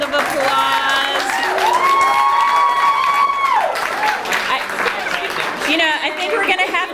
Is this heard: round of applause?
yes